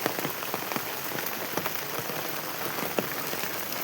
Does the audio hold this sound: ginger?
no